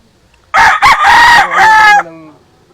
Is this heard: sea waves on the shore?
no